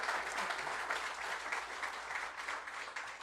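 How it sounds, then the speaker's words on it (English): Warm, continuous applause from a crowd at a veterans rally in Warrington, a steady roar of clapping hands sustained throughout with slight swells. "A round of applause for Captain."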